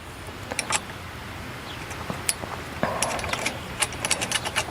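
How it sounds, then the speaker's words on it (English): A metal bolt is pushed through a wooden trellis, producing faint scattered metallic clicks and light scraping against the wood, close but quiet. "Put my other bolt through."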